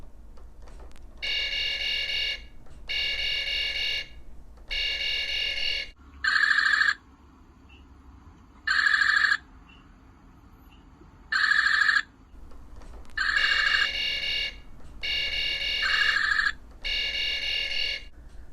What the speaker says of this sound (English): Here's the 2009 laser sound.